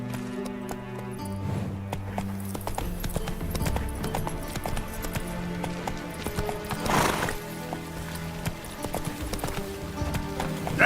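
Roach, the horse in The Witcher 3, gallops in a quick, rhythmic clip-clop of hooves. A brief whinny breaks in partway through, while game music plays underneath.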